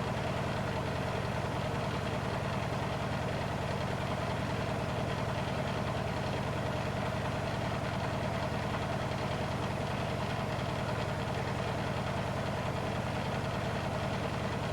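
A Blomberg WNF9448 washing machine on its final spin with an unbalanced load of blankets and dog leads drones at a constant loud rumbling hum with a faint rapid knock throughout.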